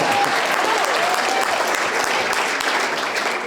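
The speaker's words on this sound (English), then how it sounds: "round of applause" An audience at a talk gives a short burst of steady, dense applause, loud and sustained throughout with no other sounds standing out.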